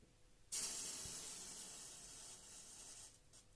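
Water drips onto a metal plate heated at 12 volts and 5 amps and flashes to steam with a sudden loud hiss that gradually tapers off over a few seconds, with no voices.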